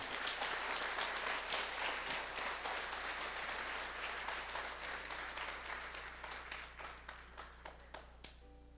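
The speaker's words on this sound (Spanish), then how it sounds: "Dale un aplauso a papá Dios por tu vida." A church congregation applauds during a sermon, steady dense clapping that gradually thins into sparse, separate claps near the end, with a low steady hum underneath.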